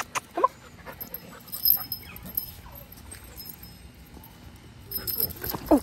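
A dog on a walk-by with an unfamiliar dog gives soft, intermittent whimpers and panting over a quiet outdoor background, with brief sharper noises near the start and end.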